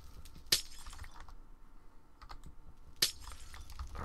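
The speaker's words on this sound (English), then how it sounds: "in the back, we need to knock out some glass." Glass blocks breaking in Minecraft: two sharp shattering crashes about two and a half seconds apart, with soft clicking, like keyboard taps, in between.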